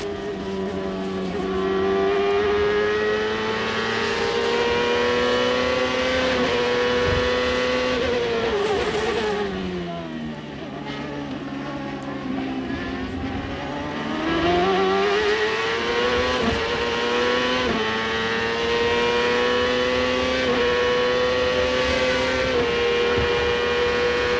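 Onboard a CART race car at Mid-Ohio in 1999, a loud engine screams steadily, dips as the driver brakes and downshifts for a corner, then climbs back up through the gears under faint commentary.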